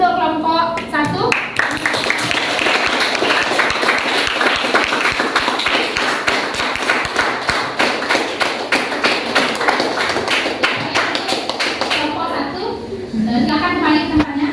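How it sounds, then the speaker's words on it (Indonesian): A classroom group applauds a student group for about ten seconds, with dense, steady clapping from many hands that fades out as a teacher's voice returns. "berikan aplaus dulu untuk kelompok 1"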